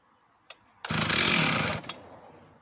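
A vintage Jonsered 621 56cc Swedish professional chainsaw, a project saw, fires after a couple of pull clicks and runs in a loud, close, rasping burst for about a second before cutting out.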